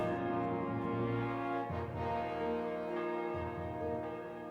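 A church bell tolls in the medieval video game Kingdom Come: Deliverance II, its deep ringing tone sustained and slowly decaying, with fresh strikes layered over the hum, fairly distant and soft.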